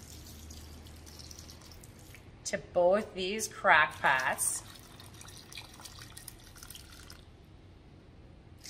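Apple cider being poured into two crock pots for soap making gives a brief, soft splashing trickle in a quiet room, partly under a man's speech.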